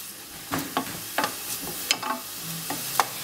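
Garlic sizzles in a pan alongside onion while being stirred, producing a soft background crackle broken by repeated sharp scraping strokes of the utensil, close and without talk.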